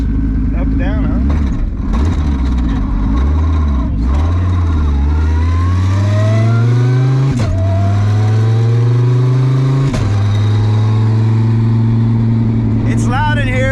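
A 2000HP Dodge Viper roars from inside the cabin, with its exhaust loud and close as the engine revs climb through rising sweeps broken by sharp gear shifts.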